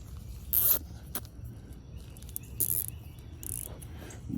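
A zip tie is pulled tight around a pecan branch outdoors, its ratcheting plastic zipping in two or three short, bright bursts over soft ambient outdoor noise with faint insect chirps.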